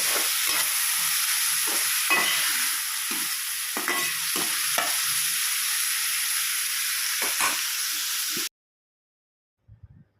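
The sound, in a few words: chopped tomatoes frying in a pan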